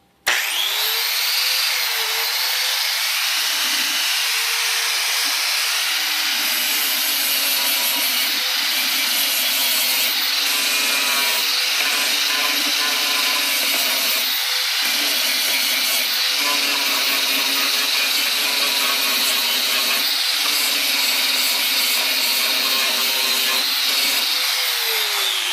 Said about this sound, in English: As I grind it, it actually heats it up.